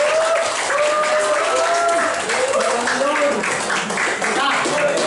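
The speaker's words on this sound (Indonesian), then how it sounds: "Oke, tepuk tangan." A high school class applauds together, a sustained burst of many hands clapping with chatter and voices mixed in throughout.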